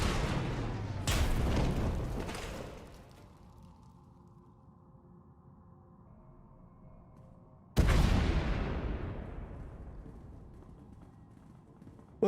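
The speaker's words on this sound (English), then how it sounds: "We heard explosions, the tunnel collapsed." Two heavy booming blasts in the video game Star Wars: The Old Republic as a tunnel collapses, the first rumbling for a couple of seconds, then a low hum before a second sharp explosion decays slowly.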